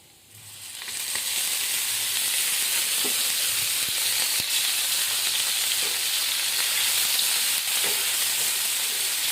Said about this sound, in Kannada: ಹಾಕೊಂಡು ನೋಡ್ರಿ ಅದು ಫ್ರೈ ಮಾಡ್ಕೊತೀನಿ ರೀ